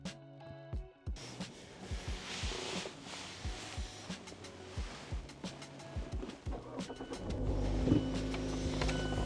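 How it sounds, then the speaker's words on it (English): A used car's engine cranks and catches after a quiet moment, then settles into a steady idle with scattered clicks and knocks nearby; the engine note swells louder near the end. "Let's start it up and see how she sounds."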